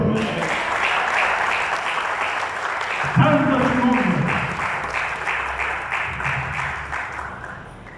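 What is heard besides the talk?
applause for the Lord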